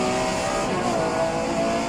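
Porsche 911 Carrera RSR 3.0 engine accelerating in the rFactor 2 racing game, a loud, steady high-revving engine tone that holds throughout the short stretch with no talk over it.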